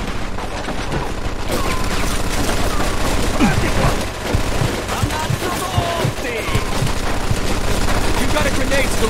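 Machine gun fire in the Mafia II video game, a steady run of rapid shots and booms through the whole stretch, with in-game voices shouting over the shooting.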